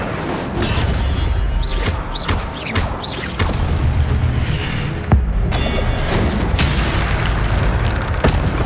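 Incendio fire spells cast in Hogwarts Legacy burst as loud booming blasts and whooshes, several impacts in a row with a sharp crack midway, over dense game noise.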